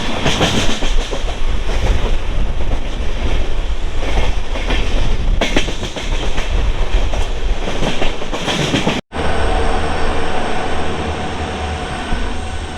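The 11010 Sinhgad Express, running from Pune to Mumbai near Karjat, rumbles loudly and continuously from inside the train with rhythmic clickety-clack wheel noise and a brief sharp break midway.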